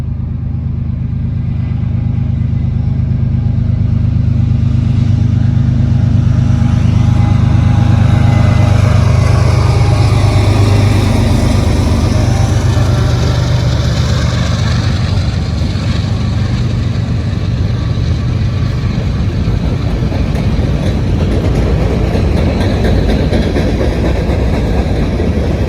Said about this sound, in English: We got another train coming. Norfolk Southern.